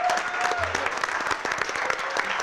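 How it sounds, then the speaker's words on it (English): Audience applause at a public conversation in Selma, a short burst of steady clapping from a crowd, with a brief whistle near the start. "Give her a round of applause."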